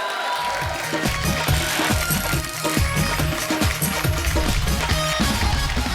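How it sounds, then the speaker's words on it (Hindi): Studio audience applauding on the Kapil Sharma comedy show, a loud sustained burst of clapping from a crowd mixed with music and light cheering. "तालियां!"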